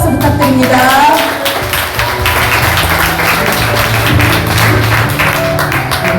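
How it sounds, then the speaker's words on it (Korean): An audience at a Korean gathering claps warmly in an even, continuous wash of applause, with some tapping and low background murmur mixed in. "여러분 뜨거운 박수 부탁드립니다"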